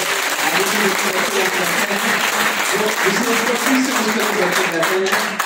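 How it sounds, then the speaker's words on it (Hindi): An audience at a college seminar on ideology and cinema in Mangalore, Haridwar applauds a student with dense, steady clapping, while voices murmur and talk underneath throughout. "जोरदार तालियां इस बच्चे के लिए"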